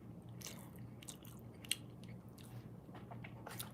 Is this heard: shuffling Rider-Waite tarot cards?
no